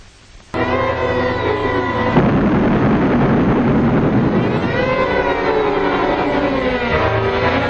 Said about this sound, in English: Any minute now, they're going to test an atomic bomb.